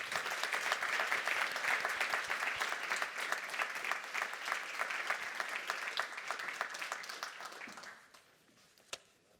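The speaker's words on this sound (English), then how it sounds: "let's give them a round of applause" A conference audience gives a panel sustained applause, a dense even clapping that holds steady for about eight seconds, then fades out, with a single clap near the end.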